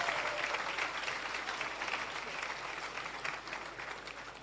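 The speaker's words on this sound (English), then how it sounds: "Can we have a collective round of applause for all the recipients?" An audience at a civil service long service awards ceremony applauds the award recipients, a steady wash of clapping at moderate distance that slowly tapers.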